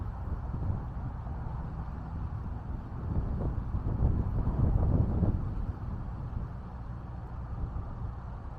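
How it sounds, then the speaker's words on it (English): Steady outdoor wind on a North Carolina hiking trail, a low continuous rush that swells in a stronger gust midway and then eases back, with no voices. "even that wind blowing"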